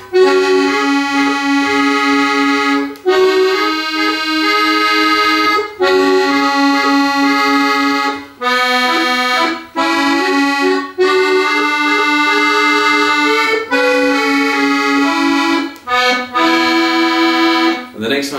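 A bright, sustained reed melody on accordion with a moving inner line under the tune, played continuously with brief breaths between phrases.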